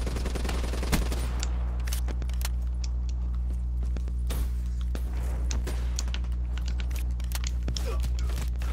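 Rapid bursts of gunfire from Black Ops 3 multiplayer crackle over a steady low in-game hum, with dense overlapping shots and no speech.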